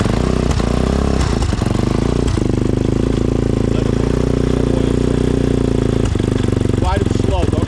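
A Yamaha Warrior 350 ATV engine runs steadily nearby with a constant buzzing drone and a clattery edge, loud and unbroken, while people talk over it.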